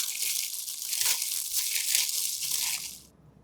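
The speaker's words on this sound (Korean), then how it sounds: "이제 양념과 하나가 되도록 골고루 버무려서 한 장 한 장 양념이 묻어나면 완성입니다." Burdock kimchi being tossed and mixed with seasoning by hand, with close, continuous wet crunching and crinkling that stops abruptly near the end.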